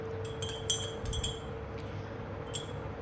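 A spoon stirring a drink in a glass gives several quick, bright clinks, some in short clusters, close to the mic over a steady low background hum, with no one speaking.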